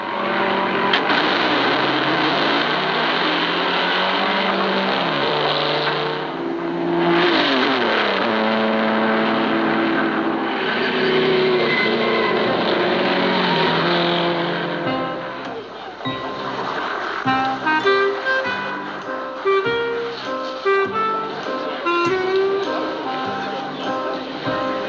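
A Talbot Lago race car, number 11, pulls away from the pits at the 1954 Le Mans 24 Hours, its engine revving and rising in pitch under someone commentator speaking in French over archival newsreel music.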